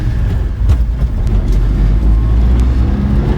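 A Mitsubishi 4x4 Japanese mini truck drives along with a loud, steady engine and road rumble heard from inside the cab, continuous throughout with no break.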